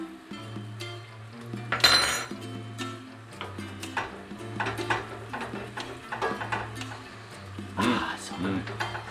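A spoon clinks and scrapes in a pan as crème fraîche is stirred into beer chicken, light irregular ticks and taps running beneath a speaking voice and soft background music.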